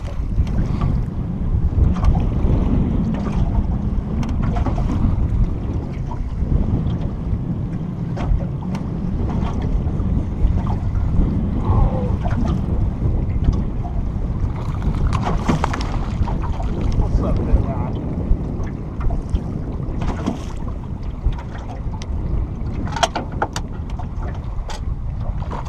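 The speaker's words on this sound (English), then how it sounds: "Hope you can hear me over this wind." Strong wind gusts across open water at Coffey County Lake in Kansas in winter, a continuous heavy roar buffeting the microphone for the whole stretch, with faint splashes of water near a boat.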